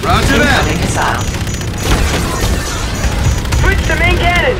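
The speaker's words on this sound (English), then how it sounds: "Incoming missile." Heavy booming blasts and crashing debris from a missile strike in the video game Call of Duty: Infinite Warfare, loud and continuous, with shouted voices and radio chatter over the dense battle noise.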